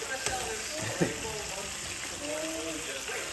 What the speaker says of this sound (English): Oh shit! Man, the grease burning.